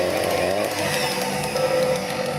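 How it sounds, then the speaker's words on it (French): A stand mixer runs at maximum speed whipping génoise sponge batter to the ribbon stage, a steady loud motor whine with a rising high hum, continuous and close throughout. "On va faire monter maintenant ça au robot. Donc vitesse maximum"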